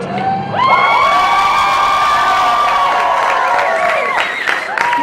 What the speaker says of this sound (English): The crowd goes wild.